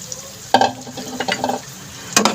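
Fried chicken is stirred and sautéed in ginger-garlic-tomato masala, giving a soft low sizzle broken by a few sharp scrapes and clatters from the spoon against the pan.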